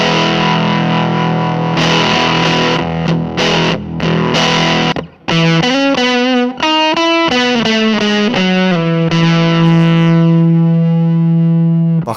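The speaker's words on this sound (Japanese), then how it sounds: "ファズはね、もうバラバラっていうちょっとね、歪みの質感がね、違うんですよね。" Electric guitar played through a fuzz distortion pedal, with a rough, buzzy, heavily saturated tone. Loud sustained chords give way to a run of single notes and end on a long held note, with no talking.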